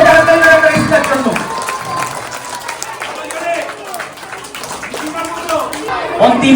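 Scattered clapping from a school audience at an International Mother Language Day function rises and falls under steady talking, ending with a brief burst.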